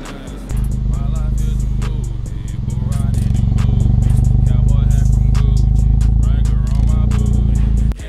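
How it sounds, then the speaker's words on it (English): Car fitted with a Borla exhaust, heard close up, firing and settling into a steady, throbbing idle at about 800 RPM with a light mechanical clatter over the low rumble. "Right now, with the AC off, we're idling about 800 RPMs."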